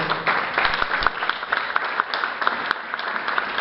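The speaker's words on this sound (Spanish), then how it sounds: "Un aplauso fuerte a Cristo." A church congregation in Barranquilla, Colombia applauds together, a dense, steady wash of many hands clapping that carries on evenly from start to finish at moderate loudness.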